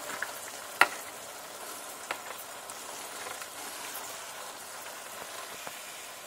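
Spaghetti frying and being stirred in a pan, a steady soft sizzle with faint scraping and one sharp clink near the start, alone without talk.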